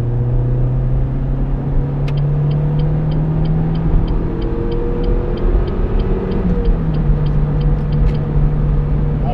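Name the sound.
Renault Megane 1.6 16V accelerating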